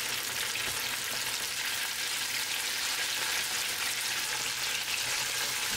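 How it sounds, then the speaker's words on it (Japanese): Chicken pieces in batter deep-frying in hot oil, a loud, steady, dense sizzle and crackle from moisture escaping, continuous and close with no voices. "お肉の水分が出てる音ですよ。"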